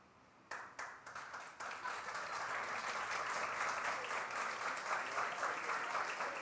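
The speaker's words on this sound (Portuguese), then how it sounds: "Merecíamos uma salva de palmas." Church congregation breaking into applause, a sudden onset of many hands clapping that builds and holds as a steady, full wash of sound, moderately distant and alone without voices.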